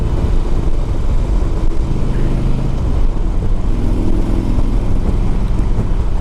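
A 2004 Harley-Davidson Road King Custom motorcycle cruising under way, its engine giving a steady, continuous low rumble with wind and road noise throughout, loud and close, no pauses or shifts evident.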